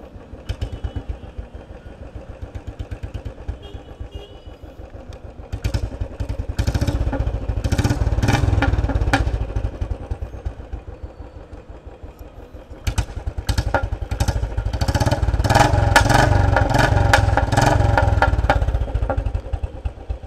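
Royal Enfield Bullet motorcycle with a loud aftermarket exhaust, engine running steadily with a thumping idle that swells into louder revs twice, close and alone.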